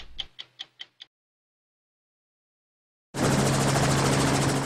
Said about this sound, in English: we flew by helicopter over this vast terrain